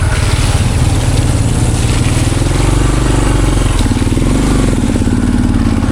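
Engine of a 50-year-old Honda enduro motorcycle on a muddy trail ride, a loud, steady low drone that rises slightly in pitch midway as it pulls along, close and continuous throughout.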